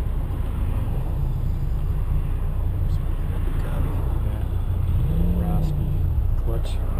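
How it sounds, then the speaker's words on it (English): Car with a raspy, dragging clutch crossing the Lionsgate Bridge in Vancouver: a steady, loud engine and road rumble with a rising pitch sweep near the end. "Raspy clutch. That drag clutch. Sounds like it's falling apart."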